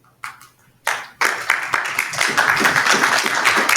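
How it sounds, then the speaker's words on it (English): Audience applause for speakers and volunteers closing an academic session on urban heat: a few scattered claps first, then quickly swelling into full, sustained clapping from a room of people. "let's give another round of applause to all our speakers and volunteers"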